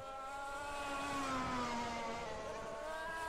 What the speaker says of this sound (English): Ricardo Costa really pushing this car to the absolute limit